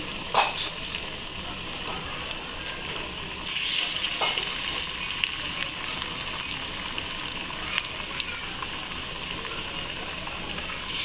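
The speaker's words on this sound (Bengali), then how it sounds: "এই যে এবার আমি পেঁয়াজটা ভেজে নিচ্ছি, যেহেতু তেলটা আমি আগেই গরম করে রেখেছি।" Onion fritters (piyaji) frying in pre-heated oil, a dense, steady sizzle that fills the whole stretch and swells louder partway through as more batter goes in, with no talking.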